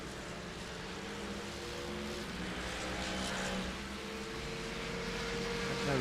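A Ford Mustang GT4 racing car in an esports endurance race on a racing video game at Misano, its engine a steady, buzzing drone that builds slightly in loudness over several seconds, with no voices over it.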